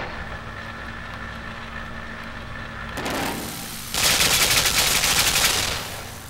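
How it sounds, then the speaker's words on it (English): Gunfire from a gun in the video game LIMBO: a brief rumble, then a loud rapid burst of automatic shots rattling on for about two seconds before cutting off. "Easy with that gun there, jeez. Thing's friggin' deadly."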